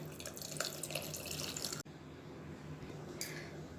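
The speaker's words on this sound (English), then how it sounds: "So now I am adding water." Water pours steadily into a pot of dal for dal makhani, splashing and gurgling, then the sound cuts and resumes more quietly with a faint trickle.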